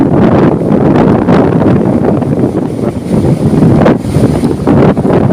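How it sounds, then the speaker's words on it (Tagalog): Strong storm wind buffets the microphone while sea waves crash and surge in heavy rolling bursts, loud and close, with no one speaking. "Sobrang lakas ng hampas ng dagat mga bi"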